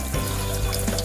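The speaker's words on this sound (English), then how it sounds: "Wash your rocks in the sink and make sure to let them dry all the way" Rocks are washed in a kitchen sink under running tap water, a steady, close, full splashing hiss with faint knocks throughout.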